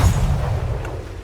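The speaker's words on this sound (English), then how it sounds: "So I make sure every cannon fires." A cannon on a brigantine ship in the video game Atlas fires once, a loud close boom at the start that rolls off into a fading low rumble.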